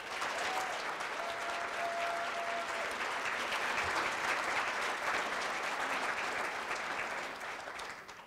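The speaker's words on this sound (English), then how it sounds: "give them a round of applause as well" A sustained round of audience applause fills an alumni award ceremony hall, dense steady clapping from many hands at moderate distance, fading out at the end.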